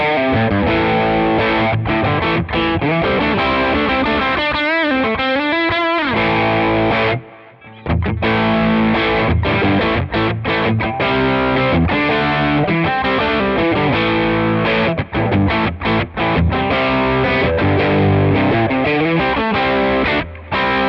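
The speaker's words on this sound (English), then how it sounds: "So I'm going to add a Nobel OD1 onto the front of this, and we'll hear how it sounds." A PRS SE bolt-on guitar on its bridge pickup plays through a Nobel OD1 overdrive, giving gritty distorted chords and riffs with bends, a short pause midway, then continued choppy strummed phrases, loud and close.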